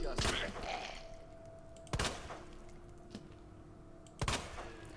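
Three sharp, isolated gunshots in the Resident Evil 2 remake, spaced about two seconds apart and fairly loud against a quiet background hum.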